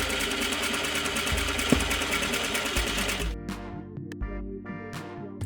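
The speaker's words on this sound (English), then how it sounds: "Sew along the bottom curved edge of your pocket bag front and pocket stay with 1/2 inch or 13mm seam allowance." A sewing machine runs fast and steady along the curved bottom edge of a trouser pocket bag, then slows into short separate bursts of stitching near the end.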